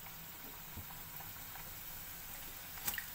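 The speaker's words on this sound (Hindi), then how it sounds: "अब हम इसको तेल में डाल देंगे और गोल्डन ब्राउन होने तक फ्राई करेंगे।" Vegetable spring rolls deep-fry in hot oil with a faint, steady bubbling hiss and a few small pops near the end.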